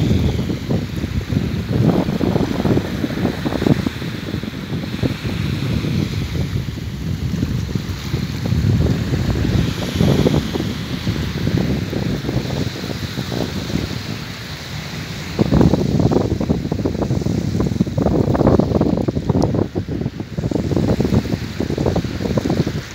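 Ocean waves wash against the shore at Diani Beach in Ukunda on Kenya's south coast, the surf and steady wind buffeting the microphone in loud, continuous swells with no voices.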